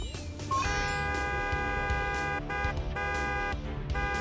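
A horn blares to test a suit model in a cartoon setting, a loud sustained tonal honk with stacked harmonics that swells in and holds for several seconds, sounding close and alone.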